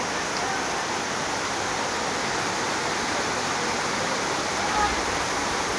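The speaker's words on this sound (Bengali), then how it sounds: "বেশ চমৎকার বৃষ্টি হচ্ছে।" Heavy rain pouring down steadily in Chapainawabganj, Bangladesh, a dense, constant hiss like rushing water that holds at an even level throughout, with no voices.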